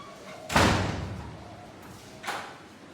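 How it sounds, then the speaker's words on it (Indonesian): A classroom door is shut twice: a loud slam with a lingering rattle, then a second, softer thud about two seconds later, in a room with no talking. "Untuk anak Hamzah, tolong tutup pintu"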